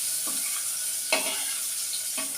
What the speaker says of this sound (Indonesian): udah bunyi teman-teman bahwa ini udah bisa buat goreng